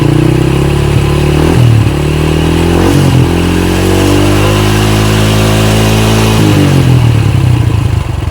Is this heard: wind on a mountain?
no